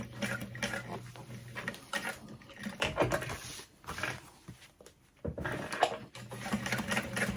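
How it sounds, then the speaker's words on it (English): A sewing machine set to a long 4.5 stitch length stitches handbag strap connectors in bursts, a rapid mechanical whirring and clatter that starts and stops several times with short pauses between runs. "we're gonna sew these into place"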